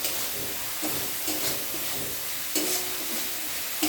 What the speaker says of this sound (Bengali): ভালো করে এই মশলাটা একটু কষিয়ে নেবেন